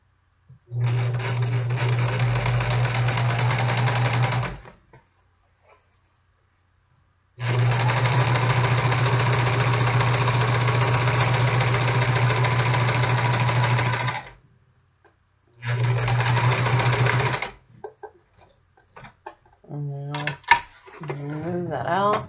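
A sewing machine stitches a vest seam in three steady runs with a deep motor hum, the longest lasting several seconds. Short quiet gaps between runs hold faint handling noises, and some fabric shuffling comes at the end.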